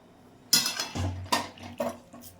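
Metal clinks and scrapes of a spoon stirring a cooking pot of cauliflower kalia, then a lid set down on it, a few distinct close knocks and clatters over about two seconds.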